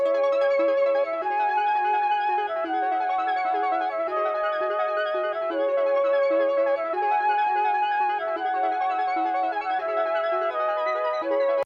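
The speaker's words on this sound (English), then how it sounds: "Then I added this arp from the SQ80V plugin by Arturia." A bright synthesizer arpeggio from the Arturia SQ80V plugin cycles rapid repeating notes steadily over sustained tones, loud and continuous without any voices.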